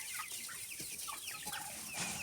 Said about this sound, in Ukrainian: випустили курчаток своїх. Ходять ось тут.